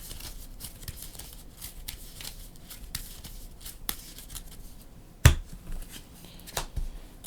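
A deck of Marvel Champions cards is shuffled close by in soft, quick riffling bursts, with a sharp snap of cards partway through and more riffles after, no talking.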